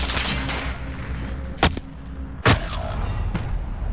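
Call of Duty gunfire crackles over a constant rumble of battle noise, with two loud, sharp shots standing out close by and fainter reports scattered around them.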